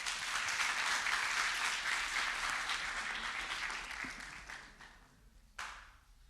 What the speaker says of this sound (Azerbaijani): Alqışlarınızla Nazim müəllimi səhnəyə dəvət edirik.